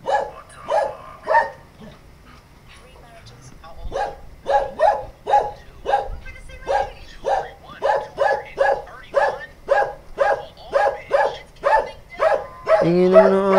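A dog barks repeatedly at a house during a water delivery, with about twenty sharp, evenly spaced barks in a steady rhythm after a short pause. The barks are fairly close and loud.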